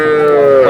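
A bull calf at a cattle market lets out a short, loud, tonal moo, steady in pitch and close to the listener, with a faint murmur of market noise behind it.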